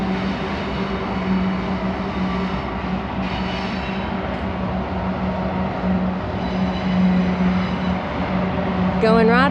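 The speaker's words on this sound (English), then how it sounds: "Oh, look, here comes the train." A train rumbles past with a steady low droning hum and clatter, growing slightly louder toward the end, with faint voices around, at the Bicentennial Capitol Mall in Nashville, Tennessee.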